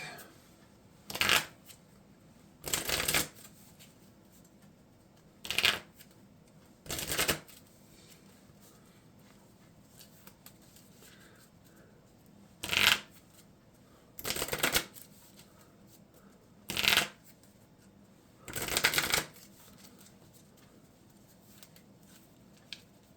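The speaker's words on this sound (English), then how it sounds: "the other super strength cards get shuffled into the deck" Marvel Champions cards being shuffled into a deck, eight quick riffling bursts of one to two seconds each, spaced by short pauses, close and fairly loud over a quiet room.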